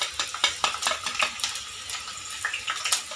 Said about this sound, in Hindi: पहले हम इसमें हरी मिर्च डालेंगे,